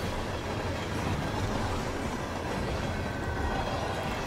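A train moving through the countryside over Romania in the Hitman 3 video game, heard as a steady, loud broadband rumble of rolling rail noise that holds evenly throughout with no voices.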